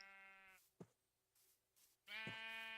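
Blocky sheep in Minecraft, modded with Mystcraft, give two clear nasal bleats separated by a short pause, close and distinct against a quiet background with a soft click between them.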